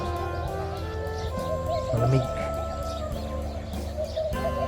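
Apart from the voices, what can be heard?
birds calling at dawn by Al Qudra Lake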